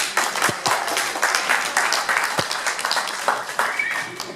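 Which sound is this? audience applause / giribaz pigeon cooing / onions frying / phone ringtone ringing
audience applause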